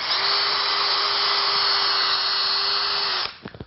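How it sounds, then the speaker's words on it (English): A small power drill with a 1/8 inch bit bores into the back of a laminate countertop, giving a steady high-pitched whine for about three seconds before it stops abruptly, followed by a few handling clicks. "drill a hole right in the middle of that line about every 6 to 8 inches"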